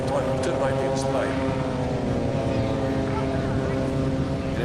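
Propeller aerobatic aircraft of the Yak team fly a formation display at the Warbirds over Wanaka airshow in New Zealand, a steady loud droning roar of multiple piston engines sustained throughout, with a commentator talking over it.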